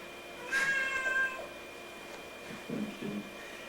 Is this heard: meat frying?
no